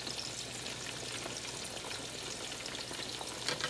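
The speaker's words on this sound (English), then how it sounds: "I'm bringing them back to a boil" Pinto bean soup in a pot comes back to a boil, a steady, faint bubbling and simmering hiss that continues without pause.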